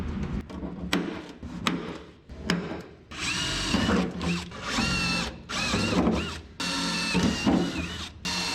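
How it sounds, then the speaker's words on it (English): A power drill bores holes through a Vintage Air A/C panel in a 1976 GMC truck. Several short, whining bursts come in close up, rising and falling in pitch as the bit bites, with brief pauses between them. "You got 5 holes to drill here."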